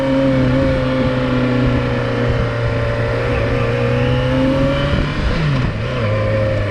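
A motorcycle engine drones loudly and steadily from the rider's position during shifting practice, its pitch dipping and sliding briefly near the end as it over-revs on a downshift.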